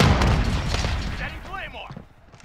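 Grenade blasts and gunfire in Call of Duty: Modern Warfare, a heavy booming rumble up front fading out while a voice shouts over the din of battle.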